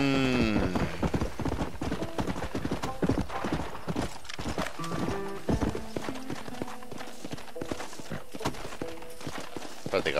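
In the Red Dead Redemption video game, a horse's hooves clip-clop in a brisk, continuous rhythm. A whinny sounds near the start, and game voices and effects run alongside the hoofbeats.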